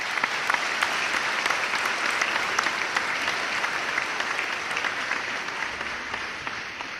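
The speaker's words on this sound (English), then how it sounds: "So let's applaud them for that." An audience at the NZEI Te Riu Roa union conference applauds for support staff, a sustained wash of many hands clapping in a large hall, steady and moderately loud with crisp individual claps, easing slightly at the end.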